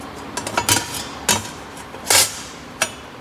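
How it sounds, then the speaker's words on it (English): A steel skid plate is pressed with a dimple die on a truck build, producing a handful of sharp metallic clanks and bangs at irregular intervals, close and loud against a quiet workshop background. "A little dimple die action."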